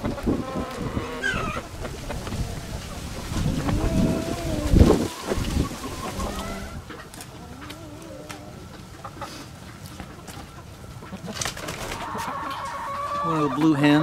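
Aseel chickens, stags and pullets including blue hens, cluck and call in a pen, with bursts of vocalizing near and mid-distance, a buzzing insect around, and people talking quietly in between.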